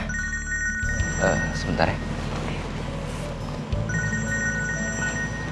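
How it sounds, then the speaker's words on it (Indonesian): A telephone rings with a repeated electronic trill in two bursts, at the start and again near the end, under a man's brief speech and a steady low engine rumble. "Ada telepon, saya duluan ya."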